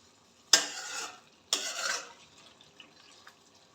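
Lemon juice is stirred into a sour eggplant dish: two short, close scraping stirs about a second apart, then a quiet pause.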